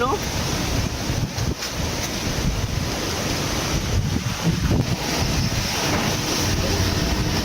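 Strong typhoon wind roars in a steady, loud rush with buffeting gusts against the microphone, and a voice speaks briefly over the din.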